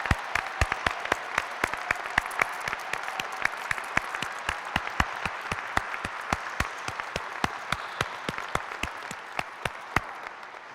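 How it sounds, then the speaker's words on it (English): Steady crowd applause at a spring university journalism commencement, honoring faculty and staff, with many sharp individual claps standing out near the microphone over the broad wash of the audience. "We'd like to serenade you with applause because you've made a difference in these students' lives."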